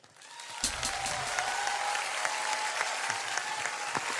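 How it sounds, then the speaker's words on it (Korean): A studio audience on a TV music show breaks into sustained applause to welcome guests, a dense wash of clapping that swells within the first second and holds steady and fairly loud with no talk. "여러분 큰 박수로 맞이해주세요"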